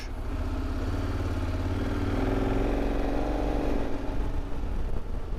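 A KTM 1290 motorcycle engine rides steadily in third gear, a continuous close, loud drone with low rumble throughout and slight rising and falling in pitch, no voices over it.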